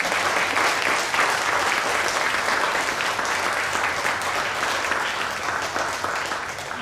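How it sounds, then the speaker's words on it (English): Wedding guests applaud the bride's family during the speeches, a steady, dense round of clapping that holds evenly from start to finish with no voices breaking through. "If we can have a round of applause for Bea's family."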